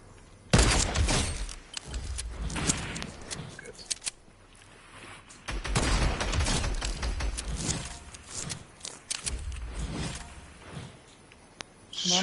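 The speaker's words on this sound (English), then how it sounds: "Ze schieten ons van boven." Sharp bursts of gunfire from a Fortnite FNCS championship match crack out in irregular clusters, some loud and close, others fainter, while people talk over much of the action.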